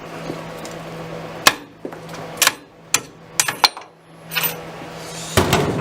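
A hammer strikes a rusted part on a lathe with about nine sharp, metallic blows at irregular intervals, some in quick clusters, close by over a quiet background hum.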